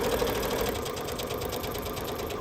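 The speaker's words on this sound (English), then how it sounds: "I'm just stitching across here" A sewing machine stitches steadily along a marked line on a seam sample, a continuous fast mechanical whir with a rapid needle rhythm, close and unbroken.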